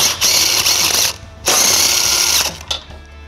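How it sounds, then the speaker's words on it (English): A ratchet with a 14mm socket removes nuts on a 2021 Toyota Sienna, giving two close bursts of rapid mechanical clicking separated by a short pause, with no talk. "we're going to remove three nuts on each side using a 14mm socket"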